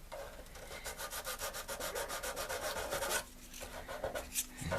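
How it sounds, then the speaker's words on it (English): A raised line on a plastic HMHS Britannic ship model is sanded by hand in a quick, regular back-and-forth rhythm of close rasping strokes, which pause briefly before a few slower strokes follow. "I'm now going to try just sand this line so it's not as raised."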